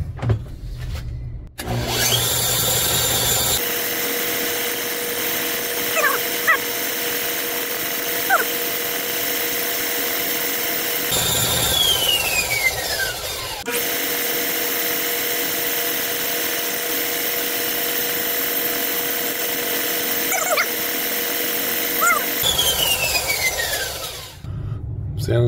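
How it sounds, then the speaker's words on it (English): A power sander works a tight-fitting part during a cobbler task, running in long steady stretches with brief stops and restarts, fairly loud and close, with light talk over it. "I'm gonna sand it a bit."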